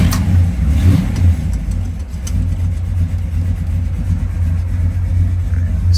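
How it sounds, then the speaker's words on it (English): A cold 1964 Chevrolet Malibu SS V8 runs close by with a deep, steady, low rumble, settling into a lumpy idle after starting. "We'll start her up."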